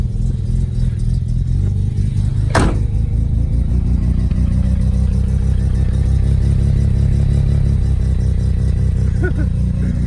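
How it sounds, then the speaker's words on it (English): A Mazda RX-7 first-generation rotary engine, swapped from 12A to 13B, idles steadily and loudly up close, a constant low rumble with one brief sharp clank early on. "it's actually idling nicely"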